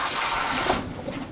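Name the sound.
rinsing cooked manicotti pasta with cool water in colander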